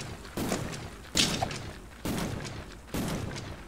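Rapid gunfire bursts from a shooting video game, several loud blasts arriving in blocks across the stretch with brief gaps, a sharper crack standing out in the middle.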